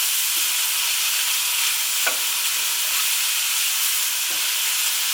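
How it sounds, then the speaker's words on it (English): Mushrooms frying in oil in a pan over turned-down heat, a steady close sizzle with occasional scrapes and taps of stirring. "Mushrooms. Get them all in there. Turn the heat down. Get them all coated in the oil."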